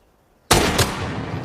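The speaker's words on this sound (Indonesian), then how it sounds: "Tiba-tiba Motoki ditembak oleh Toshio yang membuntuti Oba." A single loud gunshot in a Japanese-army war film, a sudden sharp crack followed by a second burst and a long rumbling decay into background noise.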